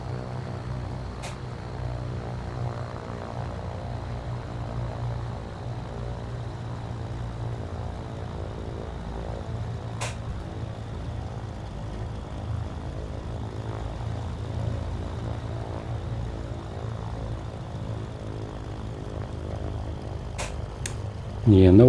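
Twin propeller engines of a Flysimware Cessna 414 in MSFS2024 drone at a steady, even pitch on a wet runway, a continuous close hum with faint clicks, and a louder burst right at the end.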